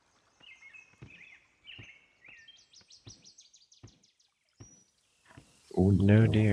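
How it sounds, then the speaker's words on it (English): Birds sing in the game Kingdom Two Crowns, with a series of clear, repeated chirps and short whistled calls spaced across a quiet background, before a person's voice cuts in loudly at the end. "Beautiful sounds of bird."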